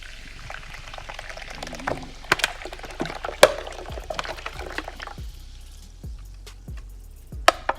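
Liquid pours and splashes steadily into a container nearby, with scattered clinks and knocks over the bubbling flow.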